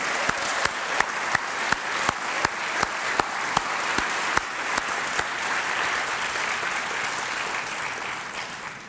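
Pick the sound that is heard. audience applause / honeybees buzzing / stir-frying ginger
audience applause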